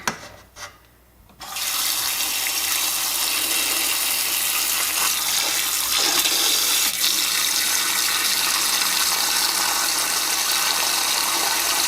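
Tap water gushes steadily into a soup pot for oxtail soup, a loud continuous rushing pour that starts after a brief quiet handling moment and holds unbroken to the end.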